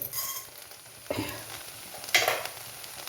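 Urad dal, fenugreek, cumin and mustard seeds dropped into hot oil in a cheenachatti, giving a soft hiss that swells with two brief bursts of sizzling and light scraping, close and fairly quiet.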